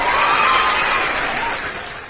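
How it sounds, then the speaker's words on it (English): Clapping and crowd noise fill the room during a financial talk, a loud, even wash of applause that slowly tapers off. "Might clap for myself."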